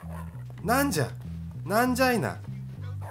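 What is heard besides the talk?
dog barking in the video game Bully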